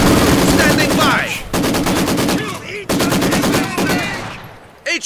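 A Maxim heavy machine gun in a video game fires long, loud automatic bursts at close range, broken by short pauses and a few echoing gaps, with battlefield voices faintly underneath.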